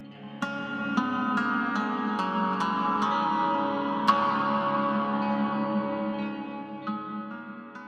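A lyre rings out a slow melody from an ancient hymn, each plucked note struck clearly and left to resonate over a soft, sustained harmonic bed.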